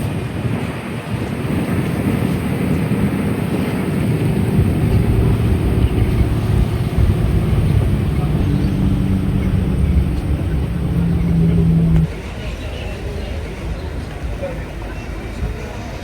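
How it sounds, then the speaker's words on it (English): Riding on a bus on Taveuni Island, Fiji, heading into town: a steady, loud engine and road rumble with wind noise that drops in level near the end. "Probably one of my favourite activities on the bus, heading into Nangara."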